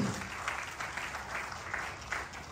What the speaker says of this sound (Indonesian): Beri tepuk tangan yang meriah bagi Allah.